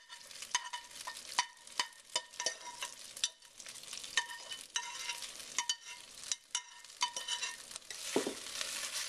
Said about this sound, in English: You make sure all the butter's coating your noodles. Stir it up.